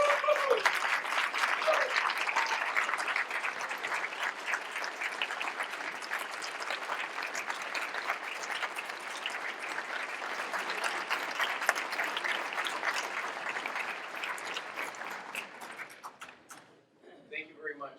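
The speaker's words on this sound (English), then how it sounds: "we'd like to give you a round of applause" Sustained applause from a crowd at a rally in support of a Catholic high school, dense steady clapping for about fifteen seconds before it tapers off and a voice begins to speak.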